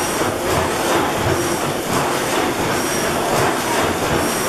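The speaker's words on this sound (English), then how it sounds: "you hear that big motor in the background?" A 600 hp Snow Worthington reciprocating natural gas engine runs steadily, giving a dense, continuous mechanical roar with a faint rhythmic pulsing, heard without speech.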